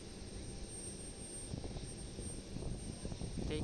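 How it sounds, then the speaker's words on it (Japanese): An ANA Boeing 787 Dreamliner departing at Osaka Itami airport, its engines making a steady broadband roar that holds throughout and swells slightly toward the end, with no voices present. "あちらの ANA34 便ボーイング787ドリームライナー羽田空港行きはようやく出発しようと"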